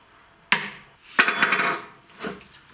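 Nuts being screwed back onto the side plate of a STIHL MS362 chainsaw give a few close metallic clanks and rattles, one sharp knock followed by a longer jangling clatter and a softer final tap.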